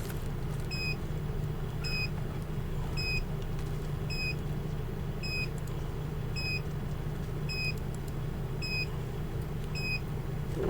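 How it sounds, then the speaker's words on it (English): Short high electronic beeps from an alarm inside an RV repeat in an even rhythm about every second, clear but not loud, over a steady low hum. "Oh, let's turn that alarm off and we don't have to listen to it."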